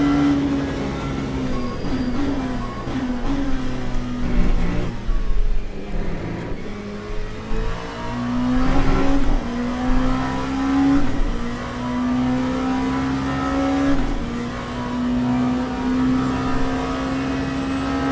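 Hypercar race engines drone in Le Mans Ultimate during a night stint of the 24 Hours of Le Mans. A loud, steady engine note rises and falls in pitch with acceleration and shifts, passing another car, with no talk.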